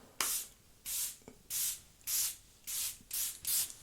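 Seven quick hissing spritzes from a Fenty face mist spray bottle, evenly spaced at roughly half-second intervals, close and crisp with nothing else over them.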